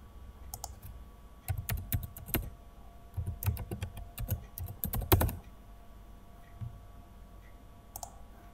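Mouse and keyboard clicks on a Windows computer come in scattered bursts of crisp, close taps, with quieter pauses between groups and no speech.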